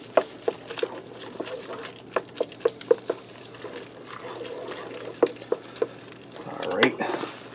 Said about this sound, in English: you just want to stir it around so you don't have any big clumps of cheese in there